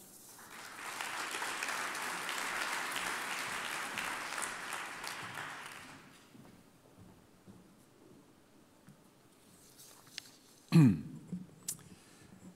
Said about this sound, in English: Please give a warm applause to Eric Labaye.